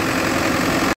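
A Farmtrac 6055 tractor fitted with a GS Turbo idles close by, a steady, even engine drone with a brief dropout just before the end.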